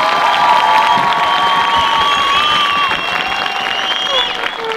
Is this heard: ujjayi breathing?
no